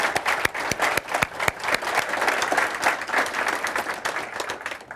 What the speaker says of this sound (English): I'd like to give a great round of applause to our panelists